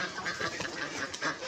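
A duck quacks repeatedly in a close, busy stretch of nasal calls at a farmyard home, steady throughout with no talk.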